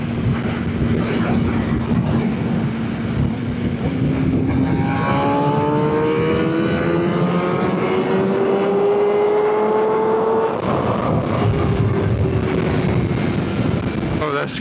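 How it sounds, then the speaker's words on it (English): Suzuki GSX-R600 motorcycle accelerating hard at speed, engine note climbing steadily through long gears under heavy wind roar, with a rider's voice at times. "Gears are long, just keeps revving."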